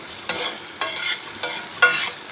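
Minced meat (qeema) fries on a tawa while it is stirred: four close, regular scraping strokes come about half a second apart over a steady soft sizzle, with no voices.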